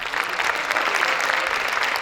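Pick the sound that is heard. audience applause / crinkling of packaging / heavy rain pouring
audience applause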